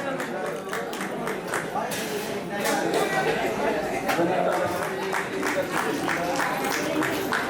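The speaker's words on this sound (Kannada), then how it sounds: "ಜೋರಾಗಿ ಚಪ್ಪಾಳೆ" Applause from the audience at the Gnana Sangama fifth anniversary event, steady clapping that swells and continues under a background of talk and crowd chatter.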